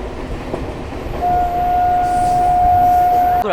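Ganadevata Express local train to Rampurhat running on the rails, a steady loud rumble and rattle joined by a long sustained horn blast that holds for a couple of seconds before cutting off.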